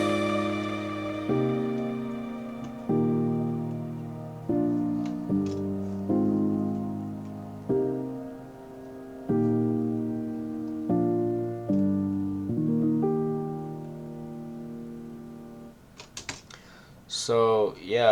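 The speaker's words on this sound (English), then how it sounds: "It's just the piano with the drones" Closing section of a song: a piano plays slow, sustained chords over steady synth drones, swelling and fading between phrases at moderate loudness, with a brief swept, glitchy flourish at the very end.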